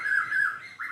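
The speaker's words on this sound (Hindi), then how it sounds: "अभी मॉर्निंग में थोड़ा सा चिड़िया चहचहा रही है" A bird sings a clear, loud, high chirping call close by in the morning, with two sustained phrases separated by a brief pause.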